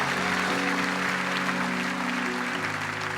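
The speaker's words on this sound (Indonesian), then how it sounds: "Kasih tepuk tangan dulu paling luar biasa buat Tuhan." Church congregation clapping during a night worship service, a steady wash of applause layered over sustained keyboard or organ tones that shift pitch partway through.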